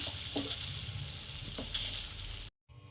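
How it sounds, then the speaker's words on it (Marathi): Eggplant with green chillies sizzles steadily in a pan for khar wang, with a few soft scraping stirs over the frying hiss before a brief cut to silence. "मध्ये मध्ये हलवत राहायचं"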